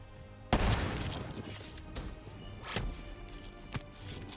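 Gunfire striking the player in Call of Duty Black Ops 3, a heavy impact followed by scattered hits and thuds over a few seconds, fairly close and without speech.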